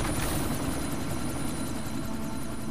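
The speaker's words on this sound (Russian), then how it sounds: "Вертолет обездвижен, повторяю." A helicopter in the video game Deus Ex: Mankind Divided roars steadily, its rotor and engine noise forming a loud, dense, unbroken drone throughout.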